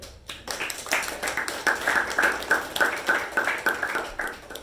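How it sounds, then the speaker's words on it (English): Applause at a Toastmasters club meeting after the speakers, a steady round of many hands clapping with a rhythmic pattern, fairly close and loud, with no talk over it. "a huge round of applause for all the speakers and the table topics master"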